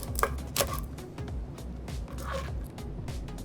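A knife cuts a stale baguette into thin slices, making a few crisp, close scraping cuts with quieter crumbly rustling between them.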